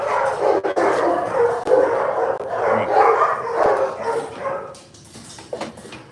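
Board-and-train dogs bark together in a dense, overlapping chorus of barks and yips, with a husky and a Jack Russell Terrier among them. The noise is loud and continuous, then thins out toward the end.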